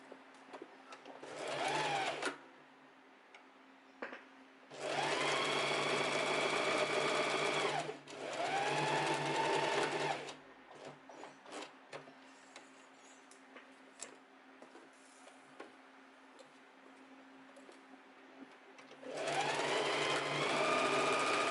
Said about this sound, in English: So now we want to sew from this edge to where we stuck the needle in here